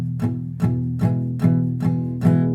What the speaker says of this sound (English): So it creates a bit of a muted sound.